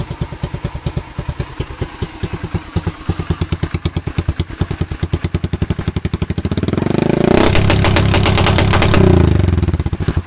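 A motorcycle fitted with a programmable CDI backfire setup idles with a steady, rapid exhaust pulse, then revs hard to around 4,000 RPM into a loud, thick roar before dropping back to the pulsing idle, with no voices.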